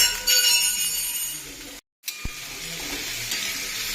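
Green chillies and onions sauté in a pan with a steady, close hiss and sizzle. The sound cuts out briefly, then resumes with a sharp clink of a utensil against the pan.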